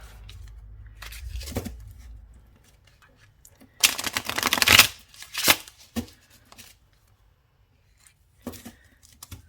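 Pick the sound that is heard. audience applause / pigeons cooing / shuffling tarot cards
shuffling tarot cards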